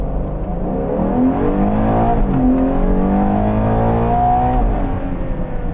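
Ferrari Purosangue accelerating hard in sport mode from inside the cabin: a loud, continuous engine roar whose pitch climbs steadily through the gears for several seconds, with no talking over it.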